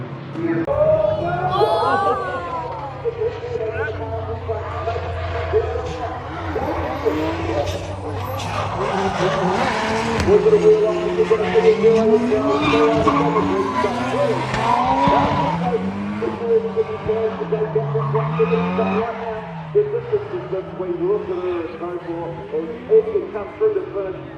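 Drift cars at a drifting event, engines revving and wailing through rising and falling pitch sweeps with tires squealing, loud and continuous, with crowd noise behind.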